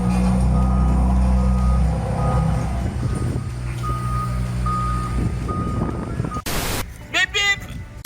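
A vehicle backing up sounds a steady run of regular reversing beeps for about two seconds, then a low rumble continues, a sharp noise burst follows, and brief voices are heard at the end.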